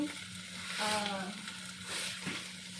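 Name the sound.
onions frying in a pan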